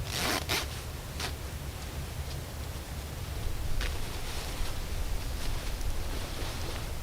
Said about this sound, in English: So you see here, there's a zipper.